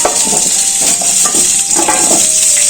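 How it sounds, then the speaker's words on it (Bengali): Potato, papaya and radish fry in a little mustard oil in a kadai, a loud close sizzle with scraping stirs and light clinks of a utensil against the pan. "কড়াই মধ্যে অল্প করে সর্ষে তেল দেব আলু পেঁপে মূলো একটু কষিয়ে নিয়ে"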